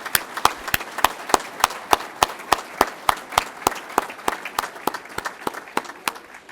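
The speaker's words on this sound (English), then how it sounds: "let's a round of applause for everyone who received an award tonight or was inducted into the Hall of Fame." Rhythmic unison clapping at a volunteer fire and rescue association awards ceremony, sharp regular claps about three per second over a softer bed of scattered applause, steady throughout.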